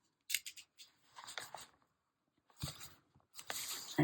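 A knife slicing through the dried glue binding two book signatures, heard as a series of short, close crisp scraping and snipping strokes separated by brief pauses, with no talking.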